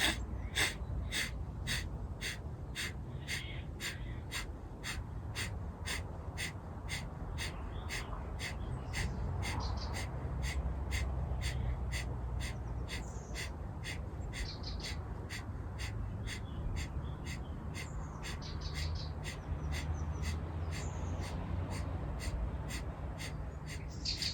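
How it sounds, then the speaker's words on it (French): Forceful Kapalbhati yoga exhalations come in a fast, regular train of sharp nasal puffs, repeated steadily for over twenty seconds at close range over a low background hum. "on va commencer cette respiration Kapalbhati avec une inspiration profonde"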